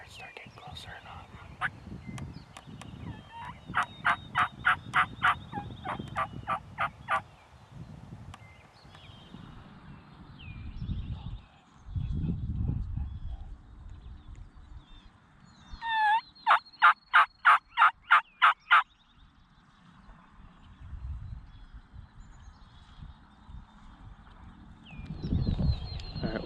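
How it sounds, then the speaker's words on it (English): A wild turkey gobbles twice in rapid rattling bursts, fairly distant and clear over quiet outdoor background, with soft rustling and faint low voices between calls. "I think he's gobbling pretty good"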